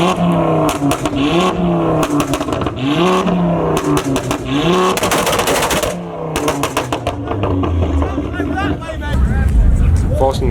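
Nissan GTR engine revving at a night car meet in Burton, UK: loud, rising and falling revs with crackling pops, close by, over a background of crowd chatter.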